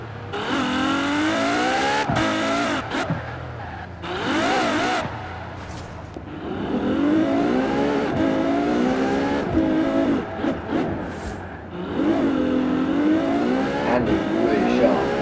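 KTM X-Bow GT4 race car engine in Forza Horizon 4, loud and close, revving up through gears with rising whines, sharp shift cuts and brief tyre squeal, with someone talking over it.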